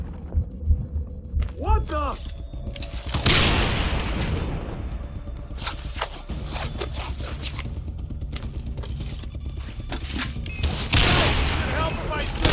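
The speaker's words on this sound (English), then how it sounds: "Trigger an explosion!" Explosions erupt in Far Cry 3 gameplay, with a loud blast followed by sustained rumbling and crackling gunfire-like bursts, another heavy boom near the end, and a person's voice briefly speaking amid the chaos.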